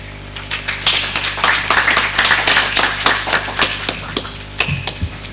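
Audience applause at an early childhood development panel discussion: dense, steady clapping from a crowd of many hands, fairly loud and sustained, thinning toward the end with a few scattered final claps.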